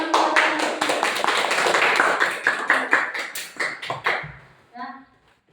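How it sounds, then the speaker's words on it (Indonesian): Children in a classroom clap together in a burst of quick, overlapping claps that fills the room, loud and busy, then thins out and stops, with a few voices heard near the end. "Oke, tepuk tangan."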